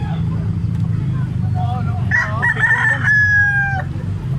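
A big white-legged gamecock rooster crows once near and loud, its drawn-out call rising then holding steady, over a steady low hum with faint background activity.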